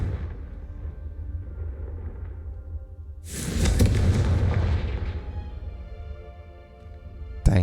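A Confringo blasting spell explodes in Hogwarts Legacy, a sudden booming burst that swells into a roaring, crackling rumble for a couple of seconds before fading, with a quiet game backdrop before and after.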